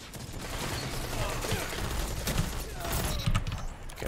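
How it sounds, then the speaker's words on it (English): Pulse grenade blasts in a Destiny 2 Crucible match sound as a dense, continuous crackle of rapid detonations and gunfire, loud and close throughout, with a player talking over the action. "Pulse nade. Don't be standing in that."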